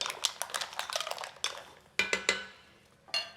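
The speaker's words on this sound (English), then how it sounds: "I have 1 pound of mussels that I'm gonna toss in. Just gonna quick little mix." Mussels, a pound of them, tumble into a pan and get a quick stir for a frutti di mare dish: a flurry of close, sharp shell clicks and clinks against metal, followed by a few spaced clatters.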